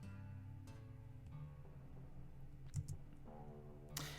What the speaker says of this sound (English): I can hear the clicking as you select things now.